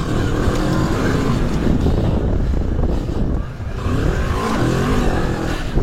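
Moto Morini 650 X-Cape motorcycle ploughing through mud on a trail, its engine droning loud and steady throughout with surging revs and the rough churn of the tyres close by.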